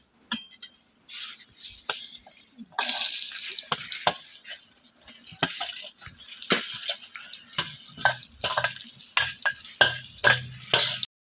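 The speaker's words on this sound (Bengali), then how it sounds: "মশলাগুলোকে হালকা ভেজে নিয়ে এর মধ্যে আমগুলোকে ঢেলে দিলাম" Mango pieces tipped into lightly fried spices in a pan for homemade mango pickle, giving a steady sizzle and spatter with scattered clinks and stirring noises, fairly close and continuous after a quieter opening.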